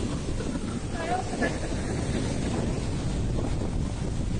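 Rough sea off Boracay heard from a boat: continuous wind buffeting the microphone over a churning wash of waves, loud and steady, with a voice speaking briefly underneath.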